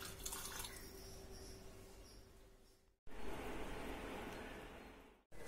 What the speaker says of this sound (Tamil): இப்போ நான் இது கொஞ்சம் தண்ணி ஊற்றி வேக வைக்கலாம்.